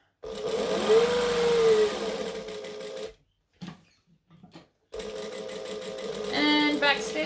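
A domestic sewing machine stitches a Pelican tote bag in loud bursts of rapid mechanical whirring, pausing in the middle for the needle-down pivot before running again, with a brief high whine near the end.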